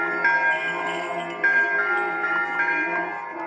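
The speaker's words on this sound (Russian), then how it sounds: "Под несмолкающие колокольные перезвоны начинают верующие крестный ход вокруг храма" Church bells peal without pause during an Orthodox Easter procession around a church, a steady layered ringing of tones that holds throughout.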